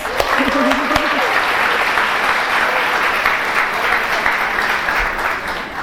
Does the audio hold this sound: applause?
yes